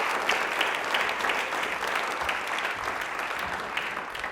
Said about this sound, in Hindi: तालियां प्लीज एक बार जोरदार हो जाए समक्ष जी के लिए